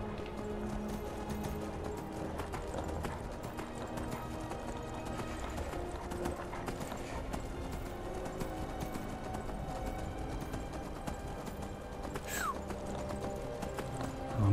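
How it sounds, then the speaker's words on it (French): Horse hooves clip-clop steadily at a gallop with a neigh, set in the video game Skyrim amid outdoor ambience, continuous at moderate level with faint talk. "Allez, démarre, démarre, démarre le cheval."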